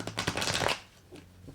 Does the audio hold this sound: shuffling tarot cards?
yes